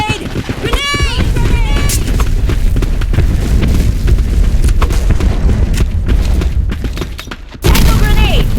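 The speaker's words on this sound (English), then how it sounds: "Throwing grenade!" In the shooter game Black Squad, a grenade goes off amid bursts of gunfire and heavy booms, loud and dense, with voices calling out over the combat noise.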